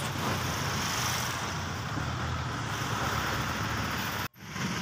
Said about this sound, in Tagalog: Laging traffic dito kapag hapon, pag-uwian.